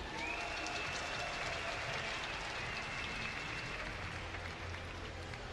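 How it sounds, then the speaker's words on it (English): A crowd at a StarCraft II esports cup qualifier final fills the hall with a steady wash of applause and cheering, heard at a distance and fairly faint. "give a cheer for ESC's GoOdy"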